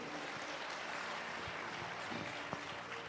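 A church congregation applauds the Lord during a Hindi sermon, a faint, steady wash of many hands clapping with one sharper clap near the end.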